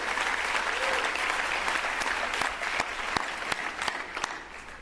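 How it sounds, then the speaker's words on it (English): Applause from the crowd at a 2017 State of the City address rolls on for about five seconds, a steady dense clatter with a few sharper individual claps standing out near the end. "all of our partners a round of applause"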